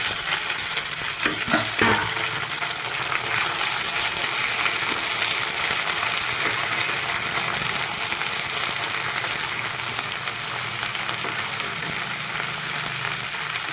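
Okra and thinly sliced potatoes fry in a pan with a steady, close sizzle and crackle, a few light stirring scrapes near the start, no talk.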